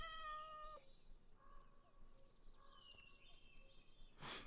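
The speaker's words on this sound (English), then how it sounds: "Sorry, I thought I heard a cat." A cat meows, one clear drawn-out call at the start and softer mewing after it, with a steady high insect-like chirring underneath throughout.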